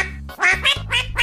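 Three or four nasal duck quacks set to a rickroll meme tune, close and loud, spaced over a steady low backing note.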